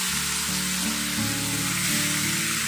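Cumin seeds tempering in hot oil for a grated bottle gourd dish give a loud, steady sizzle and crackle that fills the short stretch, up close with no voices.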